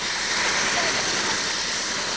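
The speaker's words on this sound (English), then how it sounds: "An Army National Guard helicopter sat in the Milford Snowmobile Club parking lot, prepared to lift off with the cargo." An Army National Guard helicopter lifts off with cargo from the Milford Snowmobile Club parking lot during the 1998 ice storm in Maine, a loud, steady rotor and engine roar with no break.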